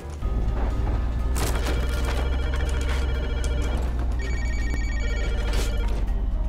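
A telephone rings continuously and loudly in a Rust gameplay session, its bright repeating bell tone running over a steady low hum without any talking.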